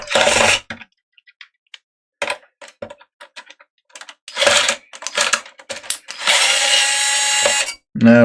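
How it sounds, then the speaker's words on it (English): A screwdriver, likely electric, backs screws out of a laptop in several separate whirring bursts, the last one long, with small clicks and taps between them, close up. "Now removing the 300 screws."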